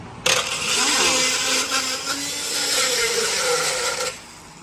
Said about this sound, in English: These are diamond burrs.